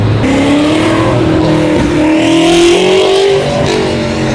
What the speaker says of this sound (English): They like revving their cars more here than they do in Dubai.